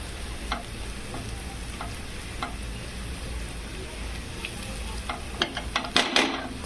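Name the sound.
turmeric and onions frying in oil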